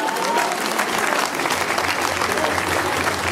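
Loud, sustained applause from a crowd honoring the women's race winners at a running event's prize-giving, dense clapping throughout with a low hum underneath.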